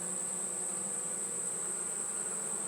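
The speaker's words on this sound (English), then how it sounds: "There's a lot of bees on the bottom board." Faint, steady buzzing of many honeybees in a hive fills the clip, a soft continuous hum with a thin high-pitched tone above it.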